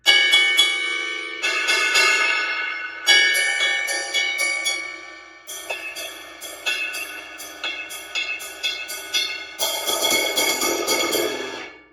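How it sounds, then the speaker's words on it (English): Bell of a Paiste ride cymbal struck repeatedly, its somewhat low-pitched, bright pings ringing out with long shimmering sustain between hits, close and clear with no voices. "This is the classic Paiste sound right here."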